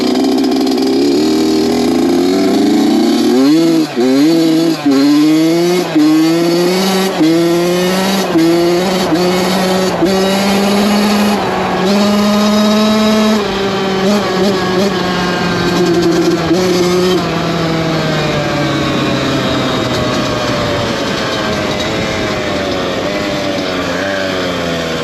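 An 82 Honda CR dirt bike's two-stroke engine revs up and down hard, its loud, buzzing pitch rising and falling in repeated sweeps close by before settling to a steadier high drone.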